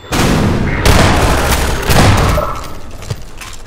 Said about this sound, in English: Got a good gun blazing.